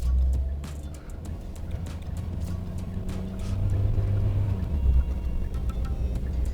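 Hyundai Staria 1.6 turbo hybrid climbing an uphill road, heard from inside as a low steady engine and road rumble that swells slightly under moderate throttle, with no talking.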